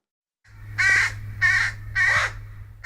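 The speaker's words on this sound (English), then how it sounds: "All these young crows" Young crows caw three times in a row, evenly spaced, loud harsh calls standing out over a low steady background hum.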